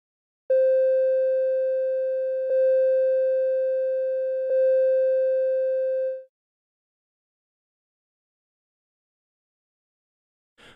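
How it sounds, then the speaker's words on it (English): A steady synthesizer oscillator tone holds for about six seconds, retriggering twice in a looping preview pattern, then cuts to silence with a brief click at the end. "Now we can preview our sound continually while we play with each oscillator setting."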